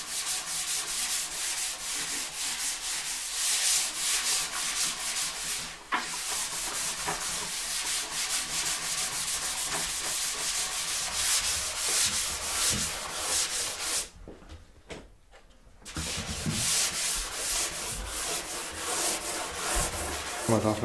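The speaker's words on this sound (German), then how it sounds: "Und wieder heißt es schleifen." Steady abrasive sanding of a primed stand-up paddle board in a shaping room, a continuous close rasping rub that runs almost unbroken, pausing briefly midway before resuming.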